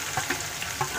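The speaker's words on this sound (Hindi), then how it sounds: "अदरक लहसुन थोड़ा सा भूनेंगे" Ginger and garlic frying in hot oil for aloo gosht salan, a close, steady sizzle with faint crackles through one brief moment, with no talk.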